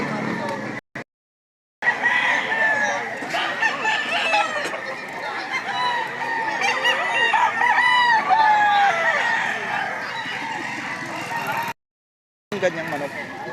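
Gamecocks at a fighting-rooster market in Lipa, Batangas, crow and cluck close by, several overlapping cock-a-doodle-doos rising over busy market noise while people talk throughout.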